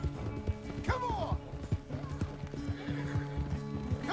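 Horses racing in Red Dead Redemption 2, with steady clip-clop hoofbeats under a loud whinny, close and continuous, while voices talk quietly in the background.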